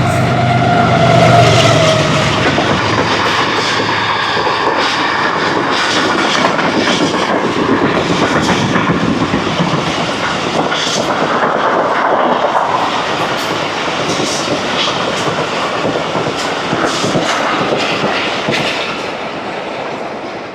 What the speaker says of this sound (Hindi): ये थी 46 डाउन पाकिस्तान एक्सप्रेस जो पिंडी से चली थी और मंजिल इसकी कराची।